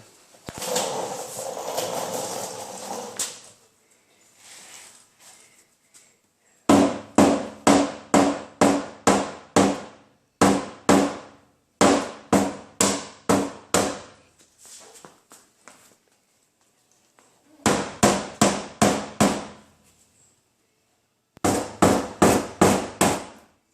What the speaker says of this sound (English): I'm going to take a rubber hammer and go from the inside and knock that edge out straight.